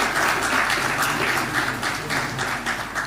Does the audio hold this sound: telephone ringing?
no